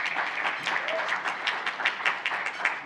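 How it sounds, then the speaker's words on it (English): Brief round of applause at a leadership summit, a small group clapping at close range in an uneven rhythm. "Please give her a round of applause."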